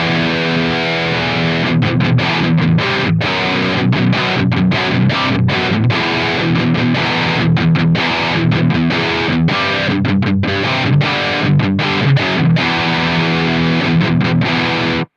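High-gain distorted electric guitar played through AmpliTube 5 amp simulation, a dense, saturated chugging riff with rhythmic palm-muted stops, loud and continuous with no talking.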